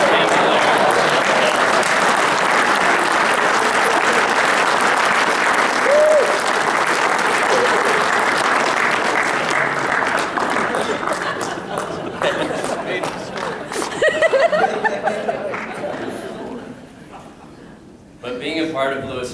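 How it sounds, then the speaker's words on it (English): A long, dense round of applause fills a room at a Lewis Central wrestling alumni reunion, loud and sustained before thinning into scattered claps and crowd noise near the end. "let's give Chad a round of applause"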